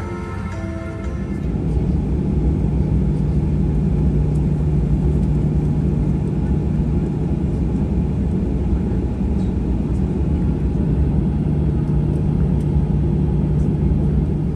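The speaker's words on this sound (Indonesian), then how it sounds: "Ini pesawatnya sudah pushback, sudah persiapan untuk take off." Steady low engine rumble and whir of a jet airliner during pushback before takeoff, continuous and unchanging, heard from inside the cabin.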